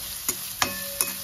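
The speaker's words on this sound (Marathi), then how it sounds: "तर तेल तापलंय आणि आता तेलात कांदा टाकते. कांदा परतून घेते." Onion sizzles in hot oil in a home kitchen pan for a Marathi-style curry, a steady close hiss broken by three brief scraping clatters from stirring.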